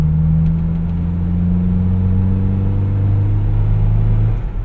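A 1987 Toyota Xtracab 4x4 pickup, likely a four-cylinder, revs and accelerates with a loud, steady droning engine note that climbs gradually in pitch before easing off at the end.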